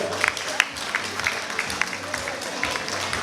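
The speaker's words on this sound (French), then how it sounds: "Des applaudissements s'il vous plaît" An audience at a beauty pageant claps steadily, a moderate wash of applause with some louder individual claps and crowd murmur and voices underneath.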